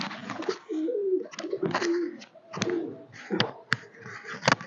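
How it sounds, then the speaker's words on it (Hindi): Pigeons or doves coo softly on a rooftop in a series of low, throaty calls with short pauses, close by and alone, with scattered light flutters and clicks between the calls. "प्रवासी परिंदे भी मौजूद है इधर इसी छत पे"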